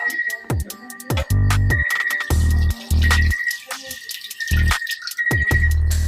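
Coconut milk poured into a pot of tilapia stew, splashing in short bursts with drips between, close by with a steady background hum.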